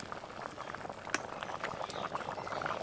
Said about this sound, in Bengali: বেশ অনেকটা পরিমাণ জল দিয়েছি, দেখুন ওল এবং আলু খুব ভালোভাবে সিদ্ধ হবে